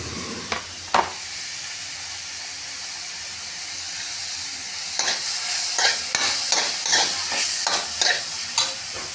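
Tomatoes fry in a pan under a steady sizzle and hiss, with scraping stirring strokes coming in irregular bursts that grow busier in the second half.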